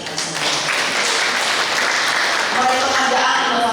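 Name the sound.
applause at a plenary session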